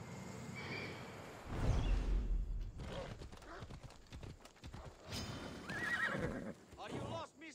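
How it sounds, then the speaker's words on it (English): Horse neighing and whinnying in the Assassin's Creed Odyssey video game, a loud drawn-out whinny with hoof clip-clops, then softer snorts and another whinny, with a voice talking in between. "Looks like a sturdy horse."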